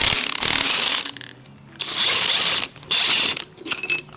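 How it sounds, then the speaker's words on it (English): Impact wrench on the engine pulley of a 2012 Chevy Malibu, loud rattling bursts of hammering with short pauses between them, close and harsh. "I'm gonna be using this impact to take off that pulley right there"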